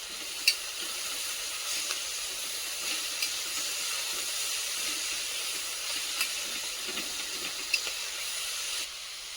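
A pan of val bean pod vegetable with plenty of fresh coriander sizzles and hisses steadily while it is stirred, with a few faint scrapes and clicks and no talking.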